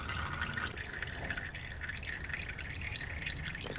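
Engine oil from a 2005 Subaru SG Forester drains in a steady thin trickle with light irregular drips, faint and continuous.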